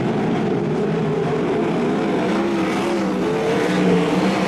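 Sprint cars race in a heat at Archerfield, a continuous loud engine roar with wavering pitch as several cars circle the track, no voices heard.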